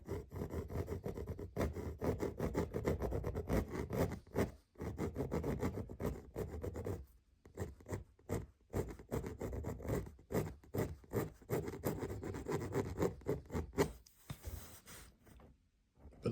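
An ink pen drawing on a gridded, painted canvas resting on a lap, giving a loud, continuous scratchy rubbing with short strokes and brief pauses, close and alone.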